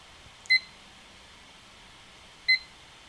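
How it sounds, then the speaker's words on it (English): Two short electronic beeps from a live online auction bid timer, spaced about two seconds apart over a quiet background. "So I'm going to start the timer on this one."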